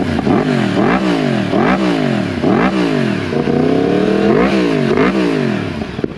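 2020 Yamaha MT-10 motorcycle with a cat-delete exhaust revved repeatedly, about eight sharp throttle blips rising and falling in quick rhythm, loud and close with no talking.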